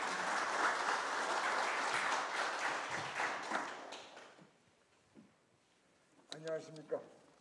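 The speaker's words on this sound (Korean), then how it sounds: "회장님을 큰 박수로 맞이해 주시기 바랍니다." Audience at a founding ceremony of a Korean ultrapure water society applauding the incoming president, dense clapping that tapers off into near quiet, followed by a brief voice close by.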